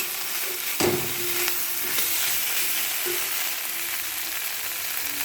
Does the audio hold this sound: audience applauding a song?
no